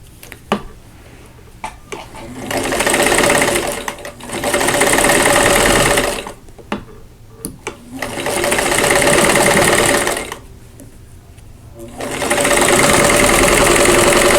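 A sewing machine stitches a quilt-block seam joining two flying geese units for an Eddystone Light block, running in three steady, loud bursts separated by short pauses with faint handling noises between them.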